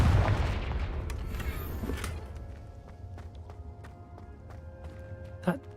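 A Confringo blasting spell goes off in Hogwarts Legacy, a loud rumbling boom at the start that fades into a low, noisy game-world tail with faint clicks and footstep-like taps.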